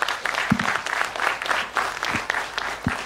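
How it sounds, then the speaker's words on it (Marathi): A hall audience at a 2024 memorial history programme breaks into steady, sustained applause, many hands clapping densely together at moderate loudness with no voices on top. "तर त्यांच्यासाठी एकदा टाळ्या होऊन जाऊ देत."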